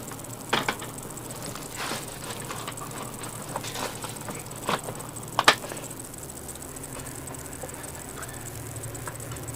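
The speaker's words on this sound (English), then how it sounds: "And the rain's starting again." Rain starting up again outdoors on a morning in Charleston, a light irregular patter of drops with a few sharper taps and clicks over a steady low background hum.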